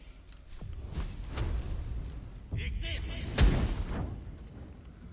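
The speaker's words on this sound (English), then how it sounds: "Shoot 8 magic missiles." Magic missile spell bolts fire in Baldur's Gate 3, a string of whooshing impacts and sharp bursts, one louder crack near the end, with a voice talking over parts of it.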